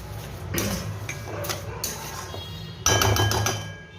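A spoon stirs tomato chutney with added sugar in a pan, for a dish with cashews, raisins and dried mango leather; metallic clinks and scrapes come in several short bursts, loudest near the end.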